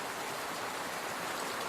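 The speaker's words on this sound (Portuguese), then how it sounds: "Eu não imaginava que fizesse tanta chuva nesse período." Heavy rain pours down in a steady, dense wash of noise with no breaks, close and loud with no other sounds.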